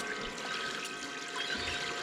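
A cheap Ridge Ryder camp shower with a rusty pump lets out a thin, steady trickle and patter of water, soft and close, with no voices.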